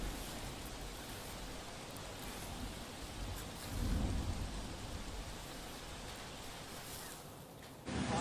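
Heavy monsoon rain pouring down over flooded Mithapur Dungri village in Amreli, Gujarat, a continuous dense hiss with a deeper rumbling swell of thunder midway, steady and fairly faint throughout without any voices.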